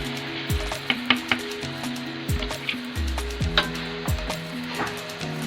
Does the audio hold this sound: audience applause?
no